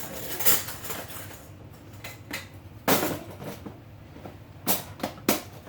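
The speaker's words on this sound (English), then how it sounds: "I need to get 3 lids out of here." Metal canning lids clink and rattle as they are pulled from a box, a few sharp light metallic clacks spaced apart over quiet background, close by and fairly soft.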